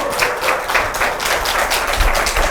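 A lecture audience claps for a professor's talk, a close, moderately loud burst of applause with uneven individual claps running through the short stretch.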